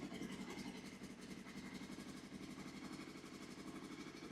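A cheap used motorcycle bought off Facebook Marketplace idles faintly just after starting, choke still on, with a steady, slightly uneven mechanical putter and revs slowly climbing.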